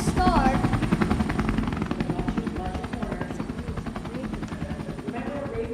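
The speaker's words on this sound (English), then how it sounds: "It's a helicopter!" A helicopter passes with a loud, close rhythmic rotor chop that pulses steadily throughout and eases slightly toward the end.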